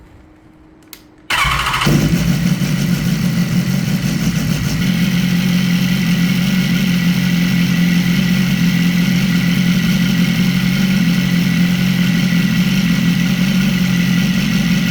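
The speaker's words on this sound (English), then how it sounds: "The bike now sounds better than before when we turned it on" A motorcycle engine with a repaired manual cam chain tensioner starts after a brief crank and settles into a loud, steady idle that carries on unbroken, close up and alone.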